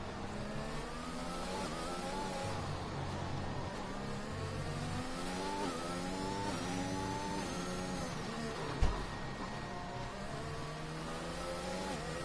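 An F3 race car in a racing video game screams through a flying qualifying lap at the USA Grand Prix, its engine note rising and falling steadily through gear changes, loud and continuous with a single sharp knock near the end.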